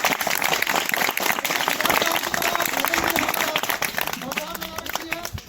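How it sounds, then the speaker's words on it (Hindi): Loud, dense audience clapping at a school farewell ceremony, sustained across the whole stretch with crowd noise and some voices mixed in, easing slightly toward the end. "तो विधायक जी के लिए एक जोरदार तालियां"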